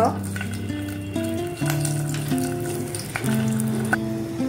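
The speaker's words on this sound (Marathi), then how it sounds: "तर हांवें 2 चमचे तेल घाला आणि तातूंत हांव घालता सासवां, 1 चमचा मेथी, हिंग" Mustard seeds, fenugreek and asafoetida sizzling in two spoons of hot oil for a Goan Saraswat okra curry, a close continuous frying crackle with faint stirring and some background voice.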